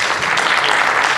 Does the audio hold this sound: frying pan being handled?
no